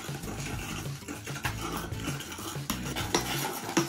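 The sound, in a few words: slime with kinetic sand being stirred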